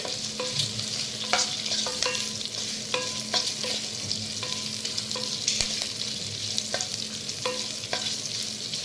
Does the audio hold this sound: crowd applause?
no